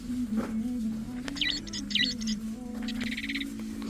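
Bright electronic chirps from a toy bird for cats come in short repeated bursts over a low steady hum.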